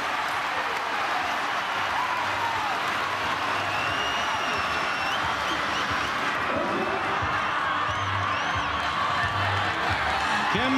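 Loud, continuous roar of a rugby stadium crowd at a Fijian Drua versus Hurricanes match, cheering and whooping after a penalty, with swells of noise and a commentator talking over it throughout.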